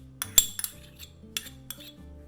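A spoon clinks and scrapes in a bowl while ginger and minced garlic are mixed into kimchi seasoning, a few short quiet metallic knocks with gaps between.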